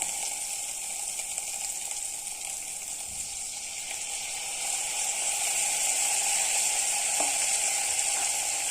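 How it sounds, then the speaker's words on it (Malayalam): Coconut milk and coconut oil poured over cooked prawns in a hot pan, giving a steady, close sizzle and bubbling hiss that swells a little louder partway through, with no talking. "നാളിക ഏറെപ്പാലും വെളിച്ചെണ്ണയും കൂടെ ചേർത്തത് നമുക്ക് ഇതിലേക്ക് ഒഴിച്ചു കൊടുക്കാം"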